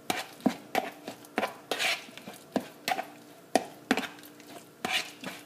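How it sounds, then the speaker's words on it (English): A spoon stirs craisins into thick oatmeal cookie dough in a bowl, giving repeated soft scraping knocks in an irregular rhythm, close and fairly loud with no talk. "Let me stir that in."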